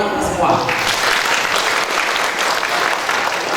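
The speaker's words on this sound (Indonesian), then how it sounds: "Tepuk tangan untuk kita semua." An audience at a financial freedom bootcamp seminar breaks into steady, full applause, many hands clapping at once for a few seconds.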